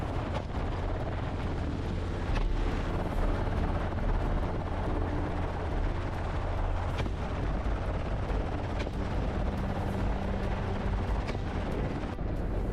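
A helicopter sweeps low over thick grassland where wild hogs hide, its rotor wash beating the grass; a dense, steady roar and chop holds loud throughout with scattered sharp thumps like rifle shots.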